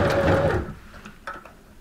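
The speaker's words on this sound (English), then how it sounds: "I've got my sewing machine on a zigzag stitch. I'm just going to do a couple of stitches just to begin." A sewing machine set to a zigzag stitch runs briefly and close up, with a dense mechanical whirr for under a second, followed by a few faint clicks and handling noises.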